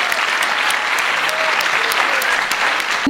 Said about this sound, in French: Peut-être on peut encore les applaudir pour tous ces beaux témoignages.